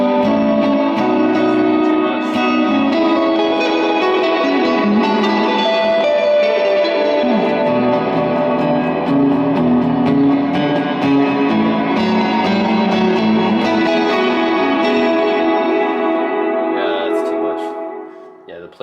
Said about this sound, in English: Plate reverb is actually really kind of noticeable, most noticeable out of these.